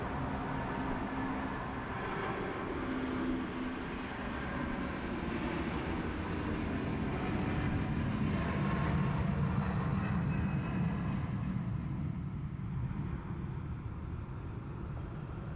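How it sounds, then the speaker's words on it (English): A Philippine Airlines airliner rolls down the runway for takeoff at Sydney Airport, a steady broad engine roar holding at near-constant loudness throughout, with some wind rumble and no voices. "Lovely long takeoff roll there from Philippines."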